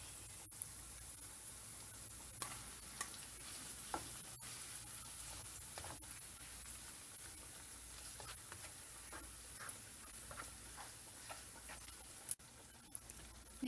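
Ground beef fries in a pan with onion and garlic: a faint, steady sizzle runs throughout, broken by occasional light scrapes and ticks from stirring.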